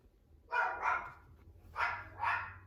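A dog barks four times in two quick pairs, moderately close, with short gaps between pairs and quiet background otherwise.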